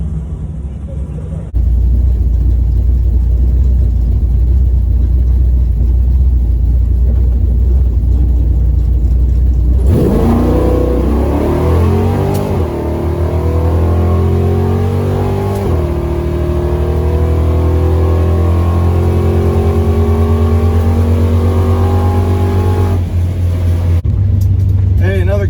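A drag race car on a test pass at a tech-day event roars loudly, engine building up and pulling through the gears with rising pitch sweeps at each shift, sustained and close.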